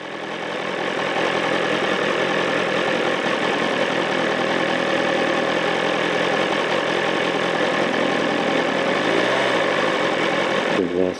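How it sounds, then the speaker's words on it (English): A Vespa scooter fitted with an Akrapovic exhaust runs with a steady, buzzing engine note throughout, fairly close and continuous. A brief rising sweep of a passing engine appears near the end. "Here's an Akropovich on the Vespa."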